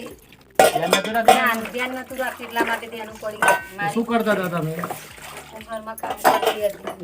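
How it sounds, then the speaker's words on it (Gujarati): A mother washing dishes and utensils by hand, with clattering steel pots and running water heard close up beneath steady conversation between people. "મમ્મી વાસણ કામ કરે છે"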